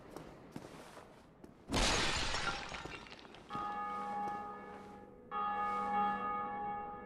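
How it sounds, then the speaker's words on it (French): Church bell in Dark Souls Remastered, tolling from somewhere overhead: two loud sustained strikes with long humming overtones, the second rung a few seconds after the first, following a sharp crashing burst. "On entend une cloche en haut."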